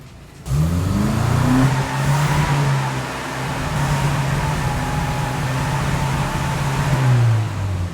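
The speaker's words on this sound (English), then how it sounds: "there's something what we call the Italian tune-up, which is just thrash the fuck out of it, blow all the carbon out" A Mini's engine is thrashed hard in an Italian tune-up, revving up, holding a strained high-pitched drone for several seconds, then climbing again, loud and close with no voices.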